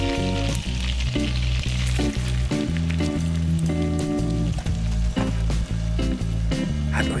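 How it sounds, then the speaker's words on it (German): Brussels sprouts frying in butter, a loud, continuous close-up sizzle heard under steady tonal background music. "Dann in etwas Butter angebraten und mit Salz und Muskat und Pfeffer schön"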